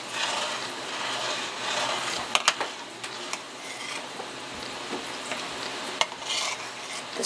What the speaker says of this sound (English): just going to keep stirring it